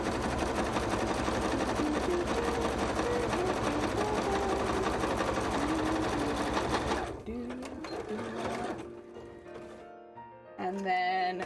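A domestic sewing machine runs steadily through fabric on a cosplay piece, a continuous motor whir with rapid needle ticks, then slows and stops in short bursts near the end while a voice speaks.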